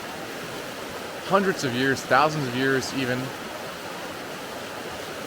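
Steady rush of falling water at the Suri tribe's shower spot in Ethiopia's Omo Valley, a constant broadband wash running the whole time while someone talks over it.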